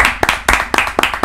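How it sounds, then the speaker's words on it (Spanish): A few people clapping their hands in applause, four quick bunched bursts of claps at a close, loud level with no voices over them. "Un aplauso. Un aplauso."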